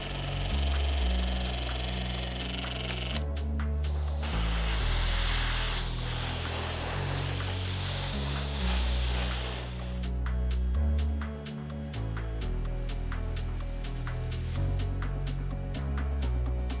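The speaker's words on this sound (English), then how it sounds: "see if we can airbrush the grey primer onto them" An airbrush sprays grey primer onto model scrap metal loads, a continuous close hiss lasting several seconds over a steady low hum.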